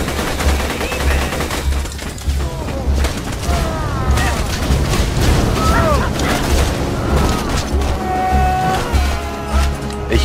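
Dense, continuous automatic gunfire and explosions from the video game Borderlands 2 rattle throughout, with loud rapid bursts and booms layered over game sound effects.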